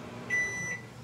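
A kitchen microwave oven gives a short, clear electronic beep, a single brief tone lasting about half a second over a quiet room.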